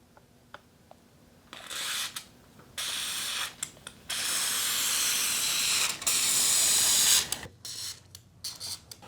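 Lubricant sprays along a garage door track in several hissing bursts of varying length, the longest lasting a few seconds, separated by quiet gaps and small clicks of the can's nozzle.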